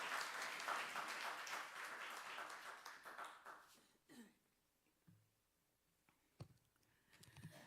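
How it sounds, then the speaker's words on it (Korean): A church congregation claps together for about four seconds in a fairly quiet room. The applause then dies away, leaving a few scattered coughs, throat clearing and small shuffling noises. "박수로 맞이해 주시기 바랍니다."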